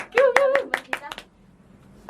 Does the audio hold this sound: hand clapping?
yes